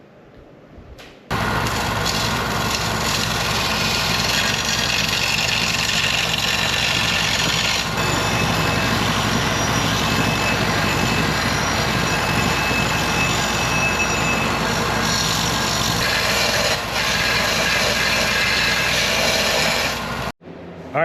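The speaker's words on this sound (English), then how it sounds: "I'm just going to hit it over to the belt sander and make it nice and smooth on all the edges" Belt sander smoothing the edges of a steel plate, a loud continuous grinding drone that runs almost unbroken for roughly twenty seconds after a short quiet start.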